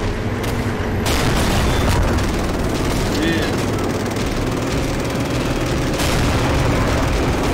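Tank cannon fire and explosions in the Garry's Mod video game, loud booming blasts over a continuous heavy rumble of battle noise, with a brief voice under the din.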